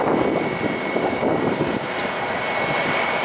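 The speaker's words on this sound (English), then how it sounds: "Here we have a red-nosed British Airways A320 arriving." A British Airways Airbus A320 arrives at Zurich Airport, its jet engines giving a continuous broad roar with a thin steady whine, heard from the ground at moderate distance.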